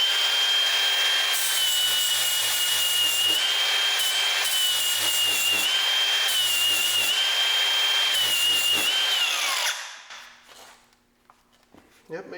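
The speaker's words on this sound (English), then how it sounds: "I'm gonna try out my first battery grinder" A cordless battery-powered angle grinder grinds metal on a Jeep YJ, a loud steady high whine with slight pitch dips lasting about ten seconds, then stopping abruptly and leaving a quiet tail with faint handling noises.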